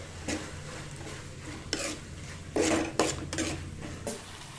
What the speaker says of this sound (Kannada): ಈಗ ನಾನು ಏನು ಮಾಡ್ತೀನಿ ಅಂದರೆ ಗೋಡಂಬಿ, ಏಲಕ್ಕಿ, ಲವಂಗ, ಚಕ್ಕಿನ ಹಾಕೋತಾ ಇದ್ದೀನಿ.